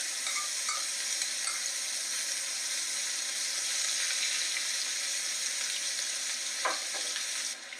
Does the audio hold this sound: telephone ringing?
no